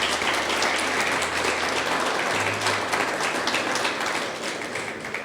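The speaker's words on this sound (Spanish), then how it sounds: "Dale otro fuerte aplauso a Dios." A church congregation applauding after a prayer in a sermon service, a dense, even wash of clapping that holds steady and then slowly tapers off, with a low hum underneath.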